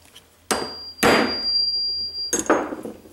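Three sharp hammer blows strike a metal punch set against flattened wire, each a loud ringing clank followed by a brief decaying tail, spaced unevenly.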